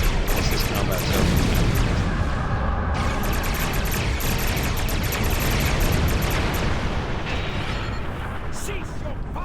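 Starship weapons fire in the space game Star Trek Online comes as a dense, loud barrage of booming blasts and explosions, rolling on continuously with a voice speaking partly over the noise.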